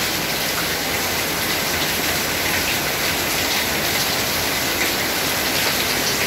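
Steady rain falls outdoors, keeping a loaded Honda PCX 150 scooter from setting off, a constant close wash of noise without pauses or voices.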